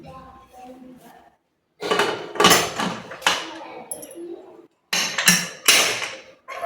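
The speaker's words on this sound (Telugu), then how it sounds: "మూత పెడతాను కొంచెం వెనక్కుండా." A metal lid is set onto a pressure cooker holding rice and water in a home kitchen, giving a few sharp clanks and clatters in separate bursts with brief pauses between them.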